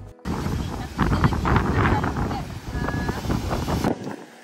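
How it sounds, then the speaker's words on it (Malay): Strong wind buffets the microphone on the Bukit Singa hilltop on Pulau Kapas, a steady low roaring rush that swells and fades, with a voice talking over it. "Angin dia kuat, pemandangan pun cantik."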